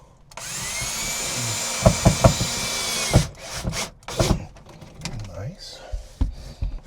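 A drill whirs steadily as it drives screws while fastening an RV water pump to the floor, then stops, followed by a few sharp knocks and clunks, with someone speaking briefly near the end.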